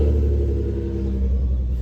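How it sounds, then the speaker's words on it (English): A VW Golf R32 VR6 engine on a cold morning start gives a steady low rumble with a faint continuous whirr, close and unbroken. "I've noticed this makes a whirring noise on the first start up in the morning."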